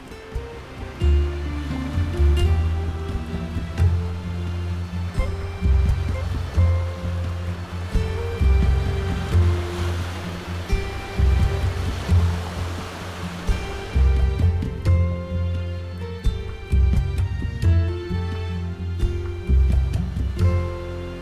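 Ocean waves of the Indian Ocean break on a Balinese seashore, steady rushing surf with repeated rolling crashes and a constant low roar, fairly close and alone without voices.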